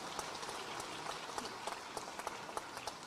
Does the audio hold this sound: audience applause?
yes